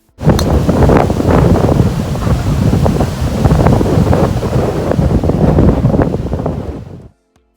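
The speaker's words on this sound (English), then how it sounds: "Now I'm gonna stop talking so you can listen to the wind." Strong wind roars across a desert golf course, a loud, continuous buffeting rush that batters the microphone for several seconds with no speech, then cuts off abruptly.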